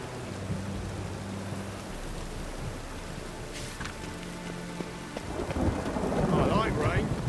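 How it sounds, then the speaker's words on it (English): Rain and thunder in the video game The Witcher 3: Wild Hunt, steady rainfall throughout with a rumbling thunder roll building louder near the end, no talking. "I like rain. Keeps the roads indoors."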